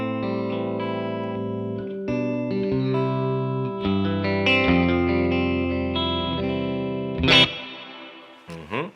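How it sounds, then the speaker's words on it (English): Electric guitar playing sustained chords and melodic notes through a Mad Professor Silver reverb pedal, a light, steady wash of reverb under the playing, with a sharp strum burst near the end. "So we ended up with a Mad Professor Silver reverb, which was just enough reverb to get the job done."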